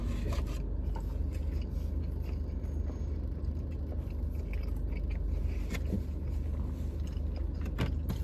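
Close bites and chewing of a messy burger from Florida Boy Burger Co., eaten inside a parked car, with soft wet mouth noises over a steady low cabin hum for the whole stretch.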